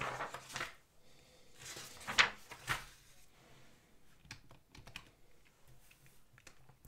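Keys on a computer keyboard tap out a number in a short run of close, light clicks, a few louder strokes early and softer scattered taps after, quiet room with no talking.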